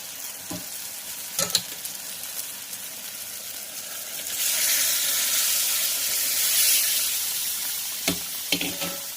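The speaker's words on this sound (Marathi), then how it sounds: "मी डाळ घातलेली आहे आणि छानपैकी असं मिक्स करून घेणार आहोत" Moong dal tipped into spiced oil in a pan and stirred, a few spoon knocks followed by a rising, steady hiss and sizzle midway, then more scrapes.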